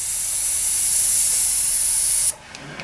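Iwata HP-M1 airbrush spraying lines, a steady close bright hiss of air that cuts off abruptly near the end, followed by a few faint clicks.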